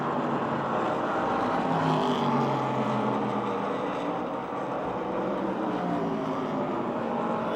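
Race cars circling Motordrome Speedway in a steady, distant engine drone that holds at a moderate level throughout, with no clear pass-by peaks.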